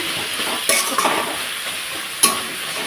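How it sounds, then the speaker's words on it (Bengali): Taro leaves cooked with chana dal are stirred in a pan, giving a steady soft sizzle broken by a few sharp scrapes and clinks of the utensil against the pan, close and with no talking. "এটাকে ভালোভাবে নাড়াচাড়া করতে হবে ঠিক দশ মিনিটের ওপরে"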